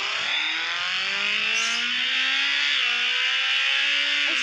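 A Suzuki S2R motorbike engine in the Traffic Rider video game, revving steadily with rising and falling harmonic pitch, loud and continuous with no voices.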